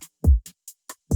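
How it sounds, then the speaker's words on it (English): A rap beat's snare in the mix, punchy hits layered with deep booming low thumps in a sparse rhythm over about a second, loud and dry with no voices. "Snare."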